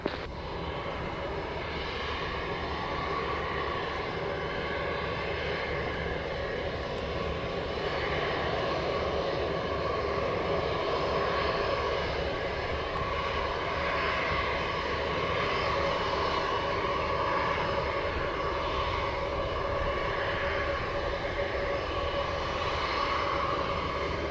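A jet airliner at Montego Bay airport in Jamaica roars steadily as it lands and rolls along the runway, a sustained engine drone heard from a distance with no voices.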